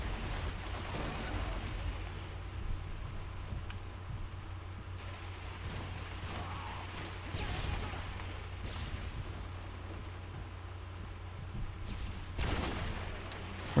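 Gunfire in the Call of Duty: Modern Warfare 2 multiplayer game, with scattered shots and bursts that are mostly faint and distant, plus a few louder cracks across the span.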